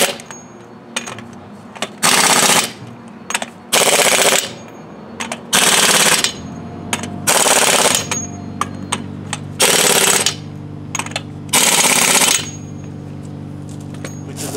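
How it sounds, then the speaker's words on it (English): Air impact wrench rattling on the lug nuts of a Workhorse W22 truck wheel during a brake rotor job, in about seven loud hammering bursts separated by short pauses and a steady low hum. "snug these up as much as I can with the air wrench"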